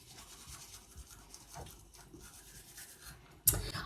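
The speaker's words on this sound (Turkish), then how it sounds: "Kızım fırçala şu dişlerini." A child brushing teeth with a toothbrush in the morning before school, soft close scrubbing and rubbing strokes in an uneven rhythm, ending in a louder clunk.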